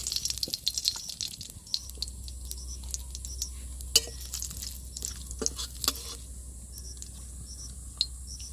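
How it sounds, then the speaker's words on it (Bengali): Two dried red chillies and two bay leaves hit hot oil in a kadai for a potato and jackfruit seed curry, with a faint, steady sizzle and a few light utensil clinks. "ফোড়নে দুটো লঙ্কা আর দুটো তেজপাতা দিয়ে দিচ্ছি।"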